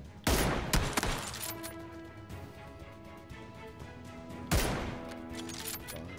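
Gunfire in PUBG: two loud, sharp shots ring out near the start and another heavy blast around four and a half seconds in, each trailing into a ringing, echoing tail with a steady game hum underneath.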